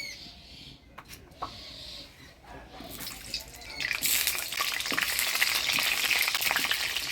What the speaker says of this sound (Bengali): এবার মাংসের আলুটা ভাজি নিব হলুদ লবণ দিয়ে তো কড়াই গরম হয়ে গেছে দিয়ে দিব তেল